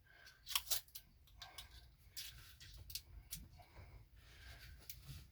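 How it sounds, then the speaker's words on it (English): Scissors cutting excess rim tape on a tubeless bike wheel, a few faint quick snips and rustles close by. "Got my blades here. Just gonna cut that off there."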